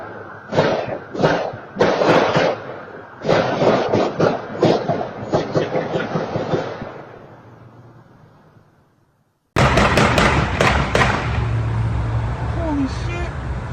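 A rapid string of gunshots from a police shootout in York crack in quick succession, then fade, followed by someone talking.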